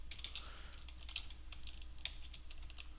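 Quick, light clicking of a computer keyboard while renaming an account in accounting software, a steady near patter of keystrokes over a faint low hum, with no voices.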